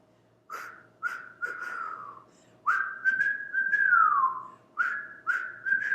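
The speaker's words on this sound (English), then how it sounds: "if you can't whistle, it's actually about the breath. Keep going. And you're just going to purse your lips." A person whistles through pursed lips in a series of clear, close tones, some short and some long and sliding downward, separated by brief pauses and breaths.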